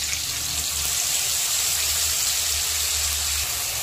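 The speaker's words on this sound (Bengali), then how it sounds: "দিয়ে দেব অল্প করে মশলার বাটি ধুয়ে জলটা।" Water from rinsing a spice bowl poured into a cooking pot, a steady continuous gushing splash over a low hum, close and fairly loud for a few seconds.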